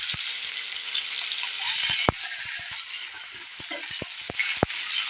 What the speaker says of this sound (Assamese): অলপ এইদৰে ভাজি লওঁ।